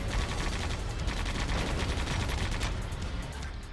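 Gunfire in Sand Land, a sustained rattle of rapid shots up close that runs steadily and then eases slightly toward the end, with no talk over it.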